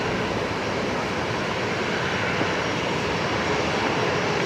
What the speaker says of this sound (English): Qantas 633 just about to make a full-length departure, the 737-800 going to Melbourne